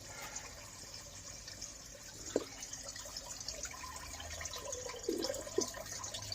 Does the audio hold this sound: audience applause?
no